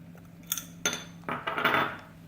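A spoon scrapes and clinks against a metal pot while milk is stirred for bread kheer, several close, sharp knocks and scrapes over a faint background hum.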